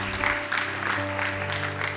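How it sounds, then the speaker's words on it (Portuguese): Church congregation clapping during a morning service, a rhythmic, pulsing applause in waves, with sustained organ or keyboard tones held underneath. "Dê um aplauso bem forte a Deus."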